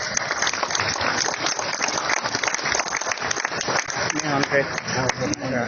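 An audience claps at a motivational business talk, a dense round of applause with voices and crowd noise mixed in, loud and sustained throughout.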